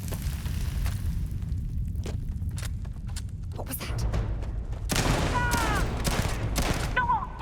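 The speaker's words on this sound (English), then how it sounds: "So the explosive shot seems to happen randomly." Explosive gunshots in the sci-fi shooter Starfield ring out as scattered sharp bursts, thickening into a dense, loud volley of fire near the end over a rumbling game background.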